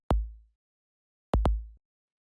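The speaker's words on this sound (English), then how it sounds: "It's this sort of low kick," Deep, boomy low kick drum layer for a trip hop beat, struck three times in isolation: a single hit, a pause, then a quick double hit with short decaying low-end tails.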